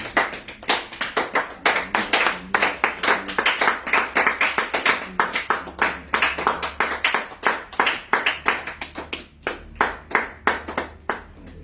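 A church congregation claps together in praise of the Lord, sharp rhythmic handclaps in a steady beat, loud and close, continuing with a brief gap near the end.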